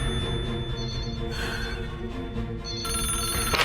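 Telephone bell ringing in repeated electronic trills, moderately loud over a music score in a Hindi-dubbed action film scene.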